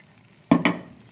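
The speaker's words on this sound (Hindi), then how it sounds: "अब मैं इसको हिलाऊंगी अच्छे तरीके से जब तक चीनी मेल्ट नहीं हो जाती" Two quick scraping strokes of a spoon through buttermilk halwa in a pan, close and fairly loud, with a quiet pause before them.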